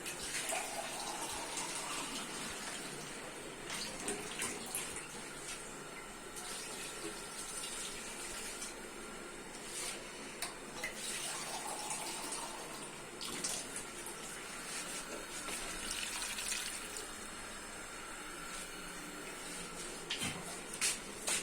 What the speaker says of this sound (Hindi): इसमें मोटा गोश्त है तो मैं पानी डाल देता हूँ उस हिसाब से।